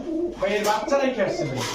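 Pigeons coo in a busy pigeon shop, several birds giving low rolling calls that overlap continuously, close and fairly loud, with other voices and shop noise mixed in.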